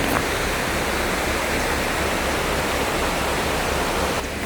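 Running water outdoors on a frosty winter day, a steady broadband rush of flowing water, close and continuous, with no voices.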